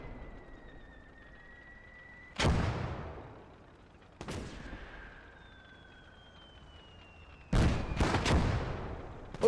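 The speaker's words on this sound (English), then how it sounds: "Right there is a mortar, I think." Mortar fire in Gates of Hell: Ostfront, a World War II battle game: several loud, booming impacts spaced a few seconds apart, with high whistling tones drifting over the background between blasts and a quick double boom near the end.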